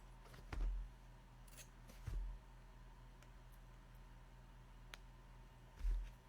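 Scissors trimming the edges of a small artist trading card: three separate quiet snips spaced a second or more apart against a faint room hum, with no talk.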